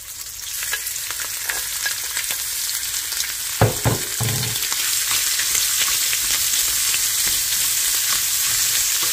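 Shrimp fry with golden garlic in a pan, a constant bright sizzle with a couple of clattering stirs midway and the frying swelling louder afterward.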